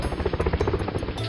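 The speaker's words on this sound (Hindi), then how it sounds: "हेलीकॉप्टर वाला चला जाता है।" A cartoon helicopter flying away, its rotor chopping in a steady rapid pulse with a buzzing drone.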